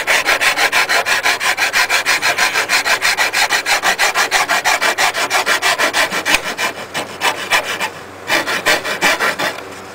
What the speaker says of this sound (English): using a flat E file to even everything out